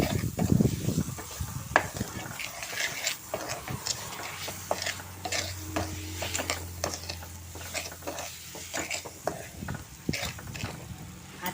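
A spoon stirs and mashes banana into semolina sheera in a pan, giving repeated soft scraping and squelching strokes with a light sizzle beneath, close and moderately loud, with no talking.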